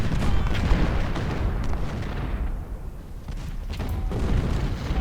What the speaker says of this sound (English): Marston, shoot at them.